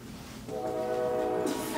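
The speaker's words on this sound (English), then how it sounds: "Damn, the damn train came in." A train horn sounds a long, steady, moderately loud blast that starts partway through and holds over faint rumbling background noise.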